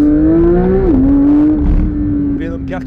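A Porsche GT3 engine accelerating: a loud, steady mechanical tone that climbs, drops sharply once as if shifting gear, then pulls again for about three seconds.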